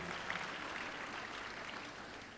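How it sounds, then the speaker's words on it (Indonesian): Church congregation applauding after a sermon, a steady wash of many hands clapping at a distance, fairly quiet and continuous with no distinct voices. "Beri tepuk tangan yang meriah buat Tuhan"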